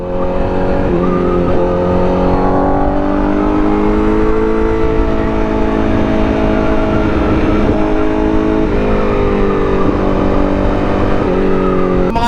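A motorcycle is held at full throttle in first gear, a loud, sustained high-revving engine wail that wavers slightly in pitch and runs unbroken for about twelve seconds.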